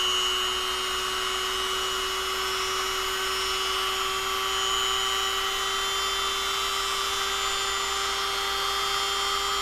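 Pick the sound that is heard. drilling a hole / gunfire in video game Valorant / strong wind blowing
drilling a hole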